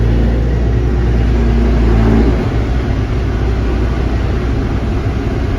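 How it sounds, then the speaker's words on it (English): A threshing machine runs loud and close with its threshing gear engaged, giving a constant heavy mechanical roar; partway through, a low drone shifts as the load changes, then the running settles into an even rumble. "It's got warmed up a bit now, so we'll put the threshing gear in, see what's occurring."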